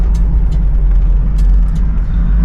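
A 1969 Oldsmobile 442 slowing on a test drive, heard from inside as a loud, steady low engine drone and road rumble that holds even throughout, no talking.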